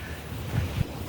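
Low, buffeting wind rumbles against the microphone in short gusts, with a couple of stronger puffs.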